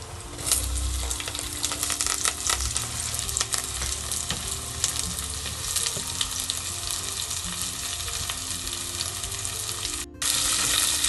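Onions and curry leaves fry steadily in a pan for an elephant foot yam curry, a loud continuous sizzle with occasional stirring scrapes and one brief dip near the end.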